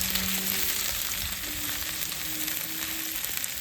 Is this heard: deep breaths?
no